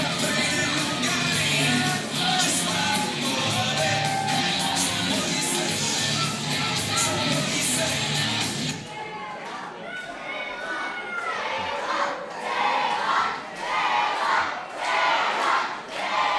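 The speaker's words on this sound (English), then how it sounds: "The Salem chant in full force here." A packed wrestling crowd at a Saturday night show in a Fredericton farmers market hall loudly chants a wrestler's name, a roaring massed yell that gives way to rhythmic, pulsing group chanting with a voice talking over it.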